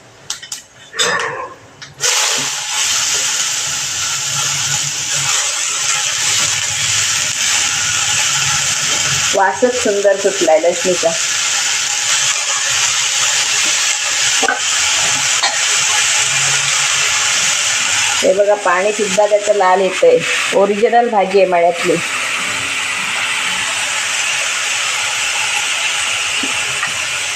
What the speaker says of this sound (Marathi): हळद घालून झाली की आता ही भाजी आपण फोडणीला टाकणार आहोत